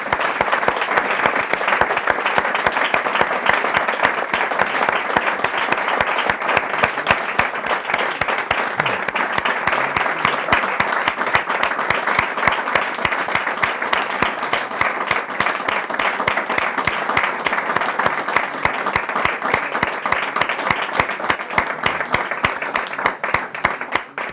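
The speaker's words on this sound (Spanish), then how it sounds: "despedimos el acto con un aplauso a Miguel Ángel" A seated audience gives a sustained round of applause to close a book presentation for Miguel Ángel's first novel, dense and even clapping lasting over twenty seconds without pause.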